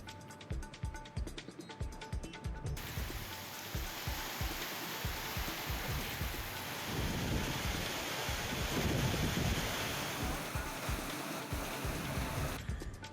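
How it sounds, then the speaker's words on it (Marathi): Heavy rain lashes down during a cyclonic storm in the Banda town area, a loud, steady broadband roar of downpour and gusting wind that runs throughout without pause. "बांदा शहर आणि परिसरालाही चक्रीवादळासह मुसळधार पावसानं झोडपून काढलंय"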